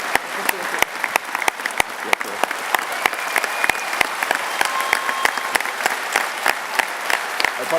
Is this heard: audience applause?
yes